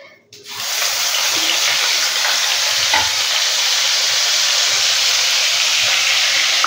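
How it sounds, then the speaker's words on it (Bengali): Onion and garlic paste drops into hot oil with a bay leaf for chicken maharani, bursting into a loud, steady, close sizzle with spattering that holds without a break. "এটা দিলেই আবার প্রচুর ছিটবে।"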